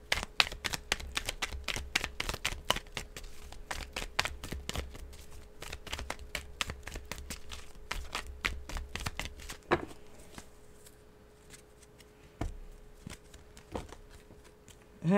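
Tarot cards riffle in a sloppy shuffle, a long run of rapid crisp flutter-clicks up close, then a pause and a few isolated card taps and slaps toward the end.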